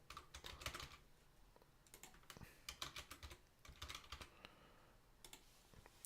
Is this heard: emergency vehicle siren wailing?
no